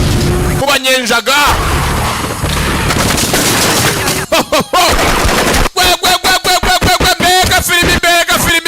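Bursts of rapid gunfire with loud bangs, interleaved with excited speech, dense and close, like an action movie soundtrack.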